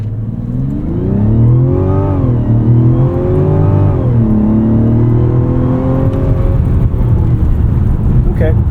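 A Mazda CX-70 3.3 Turbo accelerating from 0 to 60 mph, its engine rising through gears with audible shifts and a loud, close, steady drone, heard from inside the cabin without talk.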